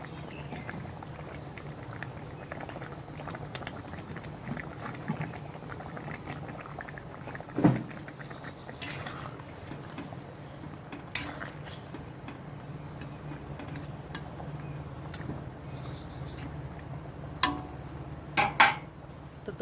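Fish curry broth simmering in a pot on a home stove, a steady low bubbling hiss throughout with occasional clinks of a utensil against the vessel, near and without speech.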